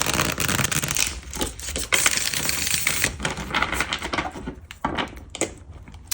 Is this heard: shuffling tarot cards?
yes